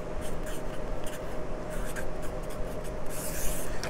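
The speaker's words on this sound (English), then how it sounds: "so I'm just gonna write it down real quick." Handwriting a quick note during a diamond painting kit unboxing, a steady scratchy rub of pen or pencil on paper running continuously, close and fairly quiet, with no talking.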